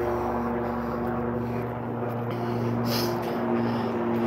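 Helicopter flying overhead above a Los Angeles street, a steady, fairly faint low drone holding throughout with no clear approach or fade.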